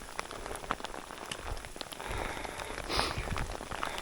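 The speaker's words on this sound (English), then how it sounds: "the rain is really heavy now. It's bouncing off the top of my waterproofs." Heavy rain pelts and bounces off waterproof clothing on a wet, windy moorland camp in the Peak District, a close, dense patter of drops with sharper individual hits throughout.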